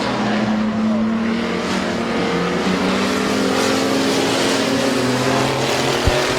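Race cars roaring around the Midvale Speedway track, several engines layered in a continuous loud drone with rising and falling pitch as cars pass and jostle, heard from the stands.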